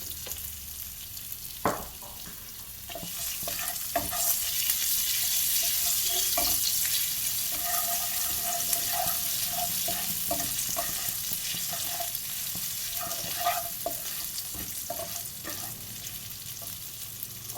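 Green chillies with salt sauté in a pan for pineapple pickle, giving a steady loud sizzle with repeated stirring scrapes and clinks running throughout, no voices.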